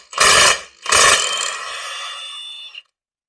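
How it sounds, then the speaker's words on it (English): A Milwaukee power tool removing bolts from a Jaguar XKE E-type engine whirs and rattles in two short bursts, the second trailing off into a fading spin before stopping. "I'm using my Milwaukee tool to take off the bolts."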